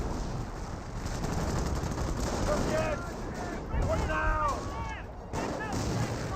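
Sporadic gunfire and booming artillery in the World War II strategy game Company of Heroes, continuous battle rumble with scattered shots and descending whistling shell sounds, while someone talks over it.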